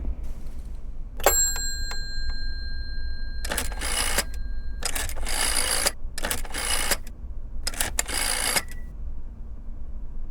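A telephone in the horror game Layers of Fear, heard as a bright ding followed by four evenly spaced bursts of mechanical clatter over a low room hum, close and fairly loud, with no voices.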